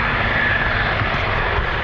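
An F-16 fighter jet flies at the Farnborough 2004 air show, making a loud, steady roar of engine noise that fills the whole short stretch without a break.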